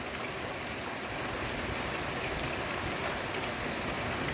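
Small hailstones patter steadily on the ground outdoors, a dense, even hiss of impacts like heavy rain that continues throughout with no voices.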